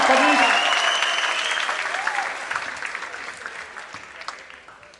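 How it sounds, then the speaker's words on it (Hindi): Loud audience applause at a Hindi poetry recital held at IIT starts full and gradually fades, with a voice heard over it at the start. "जोरदार ताली से आवाज दीजिए।"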